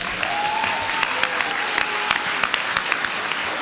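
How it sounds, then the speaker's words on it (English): Sustained applause from an audience at an elementary school expansion ribbon cutting, with many hands clapping close by and a few sharp individual claps standing out. "Can you give him one more round of applause?"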